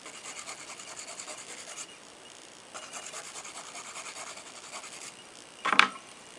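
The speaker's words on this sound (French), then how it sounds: "on passe un petit coup de lime pour égaliser la surface" A nail file rasps across a gel nail surface in soft, close, repeated strokes, with a brief pause midway and a sharper tap near the end.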